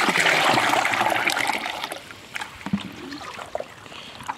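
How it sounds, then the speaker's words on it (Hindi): Water darkened with humic acid is poured around brinjal plants in a steady splashing stream that fades after about two seconds into scattered soft drips and small knocks. "इस पानी को हम लोगों को पौधों के ऊपर में या पौधों के चारों तरफ डालनी है इस तरह से"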